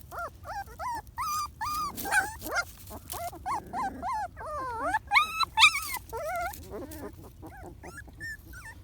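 Puppies at their dog house whimpering and yipping in a rapid run of high, whining cries that rise and fall over about nine seconds, close and fairly loud, with a quiet background.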